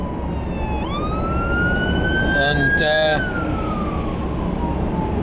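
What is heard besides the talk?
fire engine siren passing by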